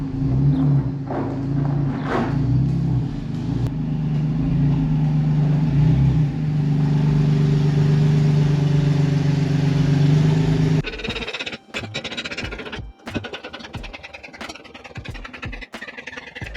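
A BMW drift car rolls into a garage, its engine idling and revving steadily and fairly loud for several seconds, then cutting to clattering shop noises and knocks with brief bumps.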